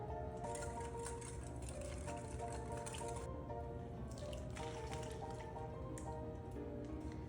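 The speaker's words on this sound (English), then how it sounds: "then we'll go ahead and pour it over our roast beef" Roasted beef base broth pours over roast beef in a pot, giving a steady close liquid splash and trickle with a few wet drips and squishes throughout.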